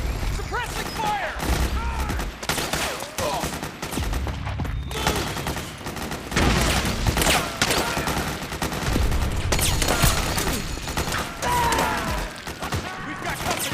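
Suppressing gunfire in Metal Gear Solid 4: dense bursts of rifle and machine-gun fire rattle almost without pause, with booms and mechanical clatter and voices shouting through the din.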